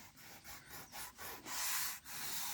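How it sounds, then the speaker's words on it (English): Rhythmic abrasive sanding strokes on a car's rear bumper, steady back-and-forth rubbing with brief pauses, close and moderately loud. "I'm sanding this whole back bumper that we just put on"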